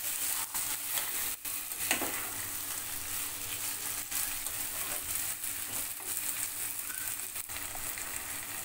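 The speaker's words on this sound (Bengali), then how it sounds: "এবার মশলার সঙ্গে মটরশুঁটিটাও আমি 1 থেকে 2 মিনিটের মতো কষিয়ে নেব" Peas frying in oily spice masala for a Bengali katla fish bhuna, with steady close sizzling and scraping stirs throughout, a few sharper spoon knocks against the pan.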